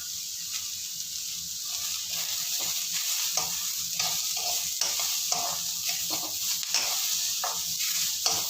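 Onions sautéing in a pan for Tamil corn paniyaram make a steady close sizzle, with a spoon stirring and scraping in repeated strokes throughout and no talk over it.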